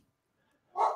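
A dog barks in a short, close burst of a few loud yaps at the end, after near silence with only faint background.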